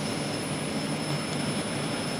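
The right engine of an SK60 jet trainer spools up during a cold start in the DCS flight simulator, a steady, loud whining roar with a high-pitched tonal whistle, constant throughout.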